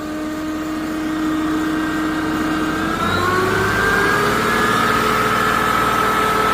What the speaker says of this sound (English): I rev it up, it does go a little faster.